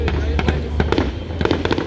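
Fireworks at a lakeside island festival, a rapid string of sharp bangs and crackling pops over a low rumble, loud and continuous with crowd noise beneath.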